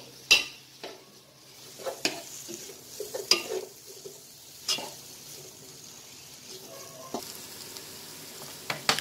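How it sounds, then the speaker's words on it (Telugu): Green chillies and onion pieces fry in a pan for Hyderabadi chicken dum biryani, a steady sizzle broken by repeated sharp clanks and scrapes of a utensil against the pan. "గ్రీన్ చిల్లీ వేసేసుకుందాం. గోల్డెన్ బ్రౌన్ వచ్చేంత వరకు కూడా దీన్ని వేయించుకోవాలి."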